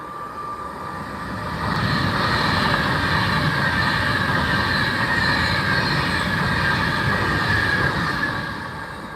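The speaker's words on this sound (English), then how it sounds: "Pendolino in slow mode. Yeah, the shed's coming straight through." A Pendolino train rolls slowly past a trackside spot near Acton Bridge, a steady, loud rumble and wheel roar that builds after a couple of seconds and holds close by for the rest of the clip, with no talking.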